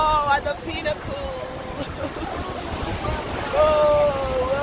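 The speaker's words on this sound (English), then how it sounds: "Yes, this is the peak of the waterfall." Rhine Falls roars as a steady, loud broadband rush of water, heard from a tour boat close to the cascade, with excited voices talking over it throughout.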